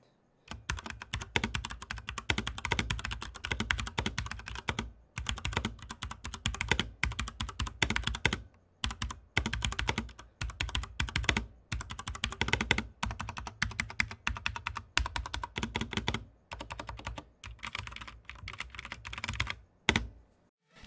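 Rapid, steady typing on an ASUS ROG Claymore mechanical keyboard: dense clacking keystrokes close to the mic, pausing briefly every few seconds before resuming.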